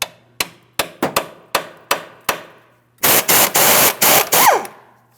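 A run of sharp metallic hammer taps on a rusty steering rack mounting nut of a 2003-2008 Toyota Matrix, about eight evenly spaced strikes, followed by a loud burst of rapid clanging blows and scraping.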